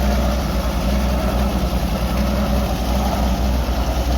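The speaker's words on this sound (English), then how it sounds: "Big 6-cylinder in there." A 1937 W40 tractor with a big six-cylinder engine runs at a steady low idle, a loud, close, continuous rumble with no voices over it.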